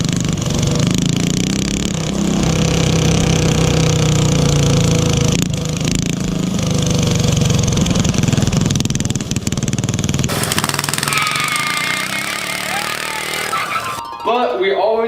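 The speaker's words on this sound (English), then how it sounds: "So now we have this engine running with the Mikuni" A small mini bike engine fitted with a Mikuni carburetor runs steadily and loudly throughout, with a continuous buzzing drone and some engine sounds mixed in, along with voices in the background.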